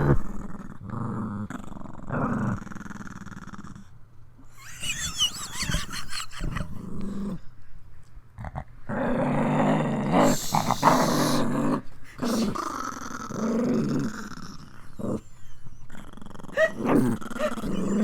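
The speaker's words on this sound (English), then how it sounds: "Ghost is triggering our dogs." Dogs growl and snarl in long rumbling stretches broken by sharp barks, close and loud, with several animals seeming to join in.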